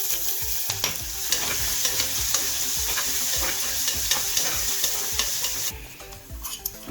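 Onions fry in hot oil with crackled mustard seeds, cumin and curry leaves, a dense continuous sizzle up close with frequent ladle scrapes and stirring knocks against the pan, the hiss briefly brightening near the end.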